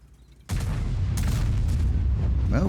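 A Grille 15 tank destroyer in World of Tanks fires its main gun with a sudden loud boom, followed by a long rumbling, rolling tail that carries on to the end.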